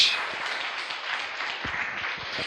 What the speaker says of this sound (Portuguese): Que as palmas louvem ao Senhor nesta noite.